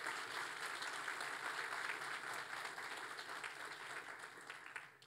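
Audience applause at a public safety awards ceremony, a steady wash of many hands clapping at moderate distance, fading slightly toward the end.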